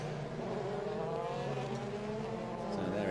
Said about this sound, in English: Really throwing the car sideways and lighting up the rear tyres.